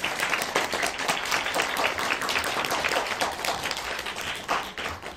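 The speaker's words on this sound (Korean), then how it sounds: "박수로 환영해 주시죠." An audience gives a dense burst of applause to welcome guests at a documentary film screening event, many hands clapping steadily and loudly throughout.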